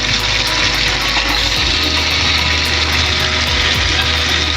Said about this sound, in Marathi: आपण हे बटाटे जे पाण्यात टाकलेले हे टाकून घेणार आहे